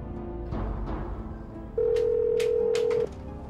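A telephone call rings through on the line, a steady electronic tone holding for over a second after some faint background clatter and murmurs, followed by brief clicks, with no talking.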